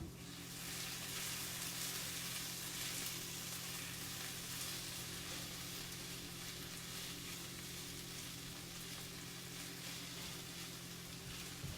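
Tofu frying in oil in a pan gives a steady, even sizzle that continues without a break, up close and fairly quiet, with a low hum beneath it.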